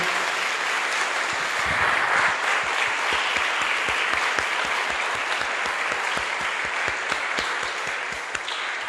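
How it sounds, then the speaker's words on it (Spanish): A church congregation at an evening event opening the month of the Bible applauds the bishop in thanks, starting as a loose burst of clapping that settles into a steady, rhythmic unison beat, loud and continuous throughout. "le damos un fuerte aplauso también de agradecimiento"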